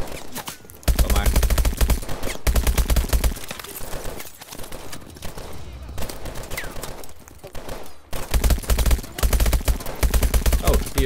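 Rapid automatic gunfire in the video game Call of Duty: Advanced Warfare, loud dense bursts that run almost continuously with a few brief pauses, no talk.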